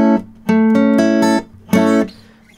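Three strummed A bar chords ring out on the top four strings of a guitar, each sustaining briefly with short gaps between, played alone and close.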